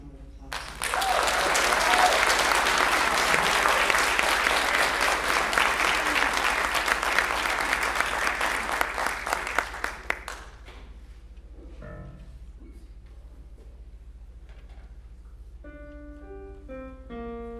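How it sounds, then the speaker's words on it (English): Audience applause at a choir concert, a full burst of clapping from the crowd that builds quickly, holds for several seconds, then thins to a few scattered claps before fading into a quiet room with faint tones. "let's give Elida a huge round of applause"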